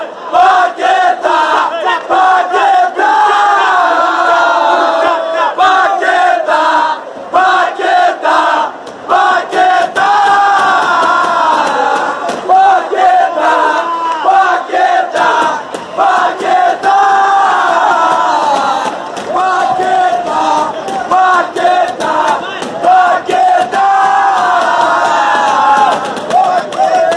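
Flamengo supporters roar and chant together from the stadium stands at a match against Macaé, a loud, dense crowd sound holding steady throughout with rhythmic surges.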